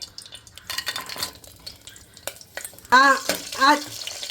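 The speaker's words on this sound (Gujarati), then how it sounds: "હવે આપણે ઘી ગરમ થાય પછી એમાં આપણે આ ડ્રાય ફ્રૂટ શેકશું।" Raisins and figs roasting in hot ghee, with a steady sizzle, bursts of stirring and a spoon scraping against the pan, plus a few clinking metallic taps.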